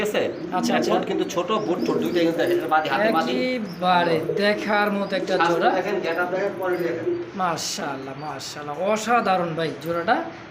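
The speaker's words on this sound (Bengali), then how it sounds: "কবুতর ডাকগুলো দেখেন" Indian Bombay pigeons coo in a loft, a busy mix of rolling coos and chirpy calls running throughout, close and fairly loud with someone talking over them.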